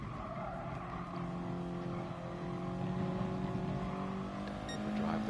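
A turbocharged race car engine in a racing video game drones steadily at high revs, its harmonic tones holding and shifting slightly as it accelerates, loud and continuous with no talk.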